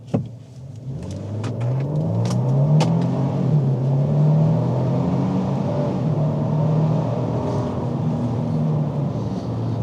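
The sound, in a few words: large SUV accelerating hard in sport mode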